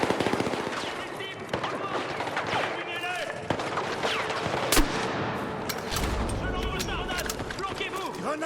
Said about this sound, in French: On subit des tirs ennemis.